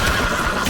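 A horse in the video game The Witcher 3 gives a short, loud, harsh whinny, heard alone and filling the whole brief moment.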